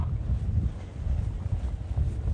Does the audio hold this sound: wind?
yes